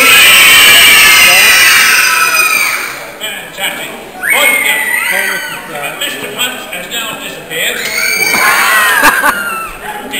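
Children in a live audience at a Day Out With Thomas show at the East Anglian Railway Museum screaming loudly together, a dense, sustained crowd shriek that dips briefly and then swells again near the end.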